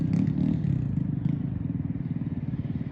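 A motorbike engine rumbles steadily as a rider tries to pull a wheelie, a continuous low drone with slight pulsing and no clear rev peaks, loud and close throughout.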